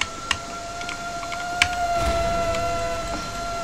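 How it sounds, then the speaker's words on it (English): A steady, high electronic siren tone from the Roblox game Nico's Nextbots holds throughout, with faint clicks and tapping scattered over a low background hum. "it's literally a siren with just this annoying thing"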